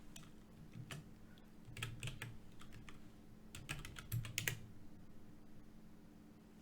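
Query text being typed on a computer keyboard, a quiet run of light, irregular key clicks with small bursts and pauses over a steady low hum, no one speaking.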